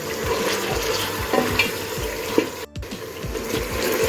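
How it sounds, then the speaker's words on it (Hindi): Mutton for nihari frying with ginger garlic paste in a pot, a steady sizzle with scraping and stirring noises throughout, close by and without talking. "लहसुन अदरक के पेस्ट के साथ भी मैंने 5 मिनट ही फ्राई किया इसको"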